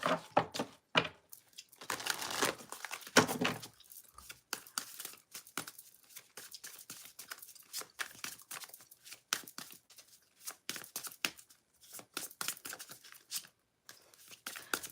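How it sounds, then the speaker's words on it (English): Rapid papery riffling and slapping of tarot cards being shuffled, loud bursts early then irregular shorter flicks and taps, no voices. "So I'm just going to shuffle real quick."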